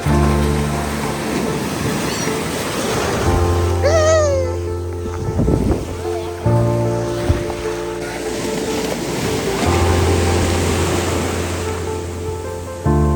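Ocean surf on Diveagar beach rolls in as a steady, loud broadband wash, with a brief rising whistle-like tone and some low rumbling partway through and no clear talk.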